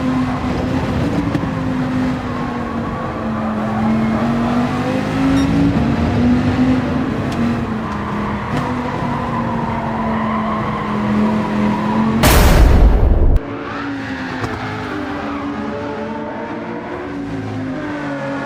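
Gran Turismo 7 race cars at Deep Forest Raceway droning steadily at high revs, broken by a loud, abrupt crash impact about two-thirds through, after which the engine noise carries on more quietly.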